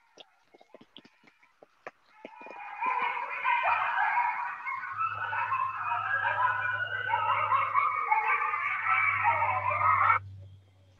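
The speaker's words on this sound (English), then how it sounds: "we can play the sound of a coyote howl" Coyotes howl in a long wavering chorus with yips, rising after a few faint clicks and holding for about eight seconds before cutting off abruptly, with a low hum underneath.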